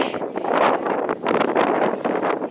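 Strong wind gusts roar and buffet steadily across an outdoor hiking trail in Devil's Garden, Moab, loud and continuous with brief dips between gusts.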